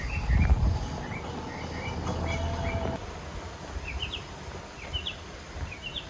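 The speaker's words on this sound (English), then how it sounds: "I hope you guys can hear the birds tweeting." Birds chirp in rural Saint Thomas Parish, Jamaica, with short high tweets scattered through the clip over a low outdoor background rumble and some close footsteps or handling noise.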